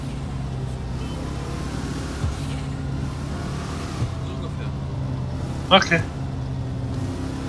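A car engine hums steadily while driving in GTA Online, a low continuous drone beneath the talk of players.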